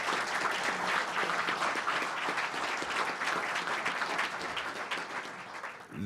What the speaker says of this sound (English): Give them a round of applause for WellStar.